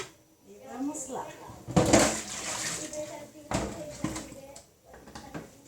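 Dishes being washed by hand in water mixed with detergent and vinegar, with intermittent clinks and splashy washing bursts under someone talking throughout.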